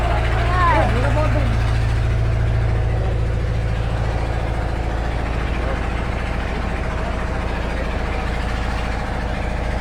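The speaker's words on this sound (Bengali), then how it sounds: "ট্রলার আসছে, ট্রলারে মাছ দেখতে আসছে।" A fishing trawler's engine rumbles with a low, steady, heavy throb that carries on unbroken throughout, while people talk over it.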